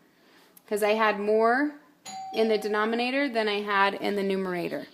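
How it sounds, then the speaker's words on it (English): A doorbell chime at home sounds behind a person steadily talking through a math lesson, its tones partly buried under the voice. "Sorry about the doorbell"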